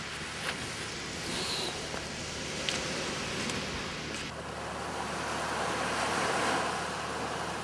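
Sea waves wash onto the shore of Popov Island near Vladivostok in a broad, continuous roar of surf mixed with wind buffeting the microphone, rising slightly toward the end, with no voices.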